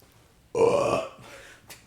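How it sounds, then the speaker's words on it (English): A single loud, close burp erupts abruptly after near silence, a drawn-out throaty croak lasting about half a second, followed by a softer trailing exhale. "Nice moving away from the mic to burp."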